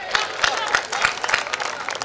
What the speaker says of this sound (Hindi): बहुत अच्छा, तालियां वालियां हो जाए आपकी।